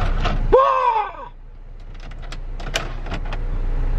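Ninja cup holder of a 2007 Saab 9-3 deploying inside the cabin: a short, bright, falling whir, then a few faint mechanical clicks against quiet interior hum, with a brief vocal exclamation alongside.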